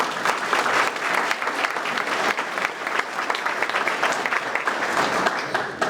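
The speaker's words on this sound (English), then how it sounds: "So let's give Dennis a big round of applause for all of this." Audience applause at a Chamber of Commerce business breakfast in East Alabama: a dense, steady wash of many hands clapping at once, sustained at even loudness for the whole stretch with no voices over it.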